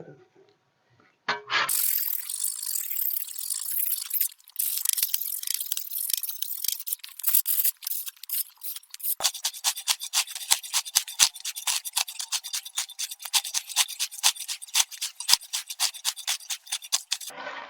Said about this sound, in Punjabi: ਚਲੋ ਜੀ ਹੁਣ ਅਸੀਂ ਇਹਨੂੰ ਕਰਨੇ ਆ ਤਿੱਖਾ।